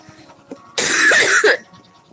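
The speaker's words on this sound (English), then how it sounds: "Trying so hard not to cough." A woman breaks into a harsh, rasping cough in the middle of a song from Pocahontas, a loud burst lasting under a second that stands out sharply against quiet surroundings.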